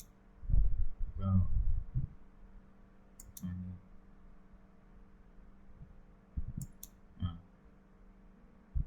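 A computer mouse clicks while someone draws in CAD software, giving a few sharp, close clicks spread over several seconds above a low hum and faint handling thumps.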